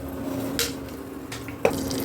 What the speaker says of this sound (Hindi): तो देखिए हम इसमें पानी डाल दिए हैं